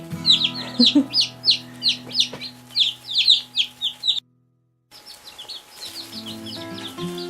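Newly arrived baby chicks cheep in rapid, high-pitched peeps, close and loud under a brooder light, with a steady electrical hum; the peeping cuts out briefly, then resumes more faintly alongside a low murmur of talk.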